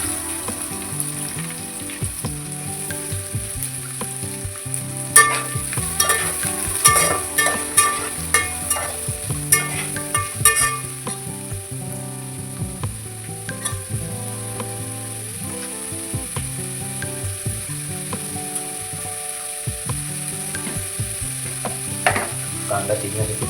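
Onion frying with garlic and chili in a pan for Vatan-style chicken rassa, a continuous sizzle with clusters of spatula clatter, set under steady background music.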